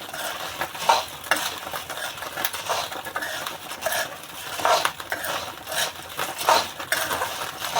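Mango seeds roasting in a pan while being stirred for a mukhwas mouth freshener, a steady dry scraping and rattling with irregular clinks and louder bursts, close and continuous, no talk.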